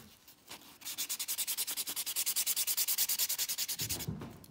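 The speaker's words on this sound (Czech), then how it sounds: "Tak, teď si vezmu brusný blok." Sanding block rubbed over polygel nails with glitter, a fast, steady run of about twenty-five close rhythmic scraping strokes that stop abruptly near the end.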